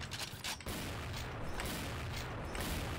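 Dense, rumbling bursts of gunfire and grenade explosions from a shooter video game, continuous and loud throughout with no voices.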